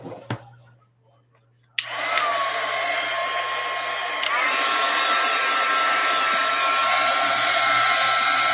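Hair dryer blowing on wet paint at a craft table switches on with a sudden loud, steady broadband whoosh that holds for several seconds, after a short quiet stretch with a low hum.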